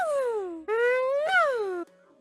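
The Sunflower healer character from Plants vs. Zombies gives a few cartoonish sing-song, wailing vocal sounds, sliding up and down in pitch, clear and close.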